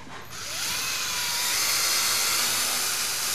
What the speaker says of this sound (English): With a closer look, I realize Simon is drilling.